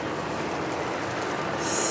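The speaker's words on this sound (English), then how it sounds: "It's been raining like all weekend." Steady rain falls outdoors during a wedding day in Biloxi, a dense, even hiss that holds constant throughout and swells slightly louder near the end.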